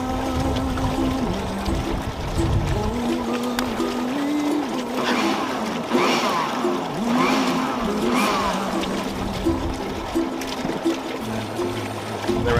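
Water poured into a mix of compost or microbial tea ingredients, making a steady splashing pour that runs for about twelve seconds with a low background rumble and no voices.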